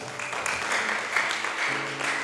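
A church congregation applauds during a Sunday worship service, a steady wash of many hands clapping with a faint sustained musical tone joining near the end.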